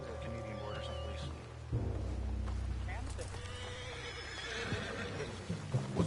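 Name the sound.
horse whinnying in a video game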